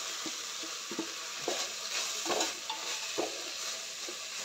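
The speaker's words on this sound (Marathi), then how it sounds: "वाटण घालून चांगलं मिक्स करून घ्यायचं आहे" A ground paste of roasted garlic, coconut, peanuts and sesame is stirred into frying tomato masala, with a soft low sizzle broken by a handful of scraping spoon strokes against the pan.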